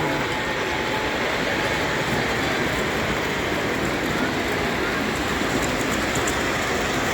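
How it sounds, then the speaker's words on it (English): Model trains running on a layout at a public train show in Edison, New Jersey, a steady rolling rumble and faint wheel clatter under a dense hall ambience, with no clear talk. "Displaying to the public, running some trains so far."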